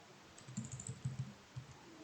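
Quiet key clicks on a computer keyboard during spreadsheet work, a few soft taps including an Enter press, close and faint over a low background hiss.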